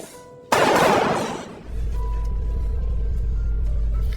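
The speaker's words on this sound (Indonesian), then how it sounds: "tiba-tiba ia mendengar suara tembakan dari luar" A single loud, sharp blast that rings out briefly, followed by a steady low rumbling engine-like drone.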